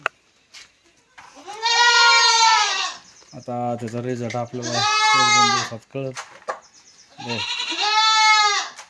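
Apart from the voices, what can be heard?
confined goats and kids bleating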